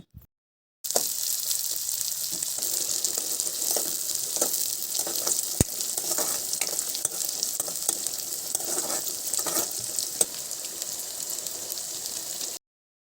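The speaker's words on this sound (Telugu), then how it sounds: "ఇప్పుడు ఇందులో శనగపప్పు వేసుకొని కలుపుకోవాలి" Chana dal frying in a pan for a drumstick curry, a continuous bright sizzle with intermittent spoon scrapes and light taps as it is stirred, close and steady throughout.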